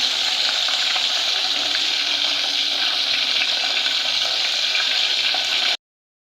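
Galunggong fish frying in hot oil, a steady, loud, continuous sizzle close by that holds evenly for almost six seconds and then cuts off abruptly.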